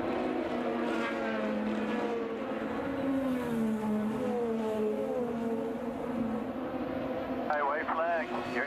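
IndyCar race cars on the final lap of the 2017 Detroit race, engines droning and revving steadily, with pitch swelling and falling as they pass, under continuous commentary.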